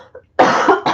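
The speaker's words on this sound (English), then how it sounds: "This cough needs to go away." A woman gives a sharp, loud cough in two close bursts, a longer rough hack followed by a quick shorter one, after a faint breath.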